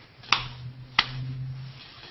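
Two sharp, isolated hand claps about two-thirds of a second apart, close and fairly loud over a steady low hum, with no talking.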